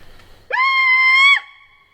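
A person vocally imitates a wild turkey gobbler's screech on a spring hunt: one loud, high, sustained scream lasting about a second, with a sharp rising start and a quick drop at the end, heard alone and close.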